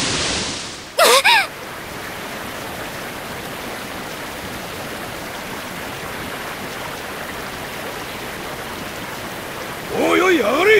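A waterfall in a video game pours in a continuous, dense hiss that stays steady throughout, with short voiced sounds briefly over it at the start and near the end.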